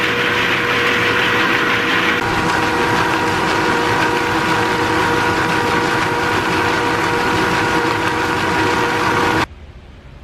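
Frankford Arsenal brass tumbler spinning to clean cartridge brass, a loud steady mechanical hum and rumble running unbroken for about nine seconds before it cuts off abruptly.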